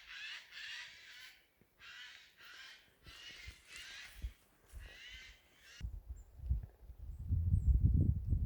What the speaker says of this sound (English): Oh god, it sounds like monkeys, but these are jays.